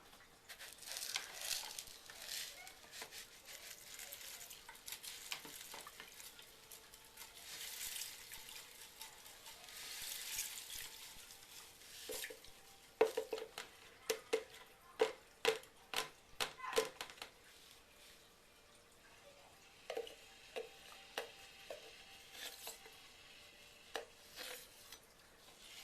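Potassium hydroxide fizzes and hisses as it is mixed for cream soap: a steady wet seething that turns into sharp, irregular crackles and ticks partway through, fairly quiet and close.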